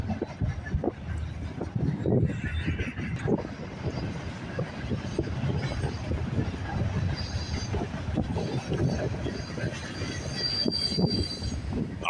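A long freight train rolls past on rails in Fremont, Nebraska, its steady loud rumble and clatter filling the whole stretch, with wheel squeal rising and fading over the continuous roar.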